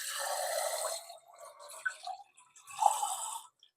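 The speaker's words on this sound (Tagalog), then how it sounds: "So, dagdagan natin ng tubig." Water is poured into a pot of goat meat biryani, a close, splashing stream followed by a few softer gurgling pours and drips.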